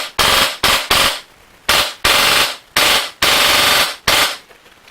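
An HPA airsoft M4 fitted with a Polarstar F1 engine fires full auto in seven short, loud, close bursts of rapid cracking shots with brief gaps between them.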